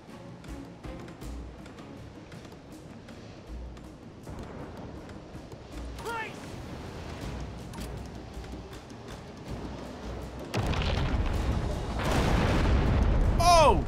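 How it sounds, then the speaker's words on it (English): Ship cannons firing grape shot during a naval battle in Abandon Ship, a series of muffled booms under busy battle noise that swells into louder, denser blasts and crashes toward the end. "Grape shot."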